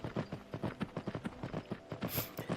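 Horse hooves clip-clopping in Skyrim VR, a steady rhythmic walking gait of soft thuds heard alone and fairly quiet, near the listener.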